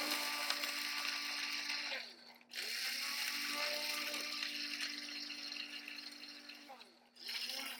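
Whole black cardamom and other whole spices for garam masala grinding in an electric grinder, a loud steady whir with a short pause and restart, under someone speaking.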